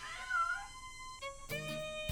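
A feral barn cat on a dairy farm in Oklahoma meows two or three times, a clear, close, drawn-out call with a tonal, slightly wavering pitch.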